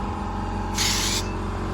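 Short burst of a paint spray gun test-firing during rust repair on an HQ Holden, a bright hiss lasting under half a second over steady low workshop hum, fairly close.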